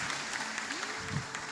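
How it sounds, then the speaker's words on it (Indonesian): Seminar audience applauding a speaker in a hall, a steady broadband patter of clapping with a voice briefly sounding over it. "tepuk tangan buat beliau"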